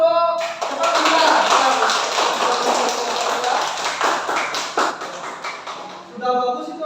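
Schoolchildren in a classroom clap their hands together, a fairly loud burst of mixed, uneven clapping that begins after a short spoken cue and dies away near the end, with voices at the edges.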